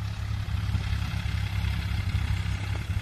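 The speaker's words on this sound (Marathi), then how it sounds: "हे इकडे ट्रॅक्टर, तर ट्रॅक्टरने कसं होतं पटकन उरकते मका टाकायची." A tractor sowing maize in a field runs with a steady, low diesel rumble and some light clatter, a close and continuous drone with no speech.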